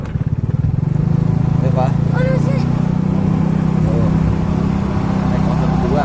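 A motorcycle carrying two riders hums steadily as it rolls along a residential housing area road, its engine droning loud and close under a voice speaking throughout.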